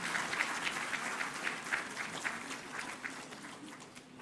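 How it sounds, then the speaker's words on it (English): An audience claps steadily through a celebratory countdown at a Chinese cultural performance event, with dense, even applause at moderate distance that slowly thins toward the end. "Applause."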